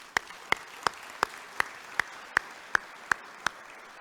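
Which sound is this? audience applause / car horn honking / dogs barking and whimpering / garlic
audience applause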